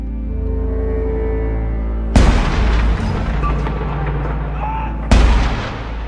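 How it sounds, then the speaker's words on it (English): Cannons firing at the Tower of London: two loud, sharp booms about three seconds apart, each followed by a rumbling decay over a continuous low drone. "Cannons at the tower fire out, reverberating across London, announcing that the Queen of England is dead."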